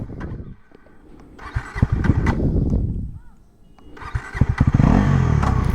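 A 2024 Bajaj Pulsar NS400Z 400cc motorcycle starts up close by, with loud engine bursts and uneven revving that grow stronger toward the end.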